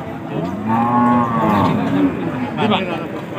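Cattle at a traditional livestock market, a loud, close moo rising and sustained for about a second, followed by shorter lowing calls amid market chatter and voices.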